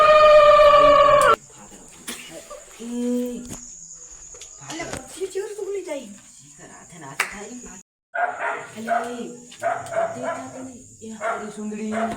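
Dogs bark in repeated sharp bursts, fairly close, over a steady high insect-like chirr, with people talking and clattering sounds mixed in.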